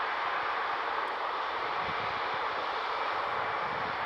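An aircraft taxiing at Manchester Airport, a steady broadband jet roar with a constant whine, heard from a distance and holding at the same level throughout with no voices.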